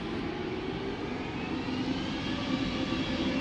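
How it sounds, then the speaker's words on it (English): An EasyJet Airbus A320neo jet at Schiphol Airport gives off a steady, droning engine roar with a broad rumble and faint whine, sustained and fairly distant throughout. "A320neo. EasyJet flight"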